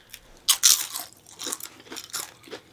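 Crisp crunching bites into microwaved cottage cheese chips seasoned with jalapeno ranch, a few loud close crunches followed by quieter chewing crackles, heard alone.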